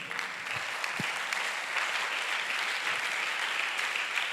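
A church congregation applauds after a sermon reading, a steady even wash of clapping from many hands, moderately distant and filling the short moment without talk.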